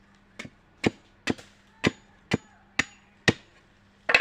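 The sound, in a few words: cutting pieces for banana tree decoration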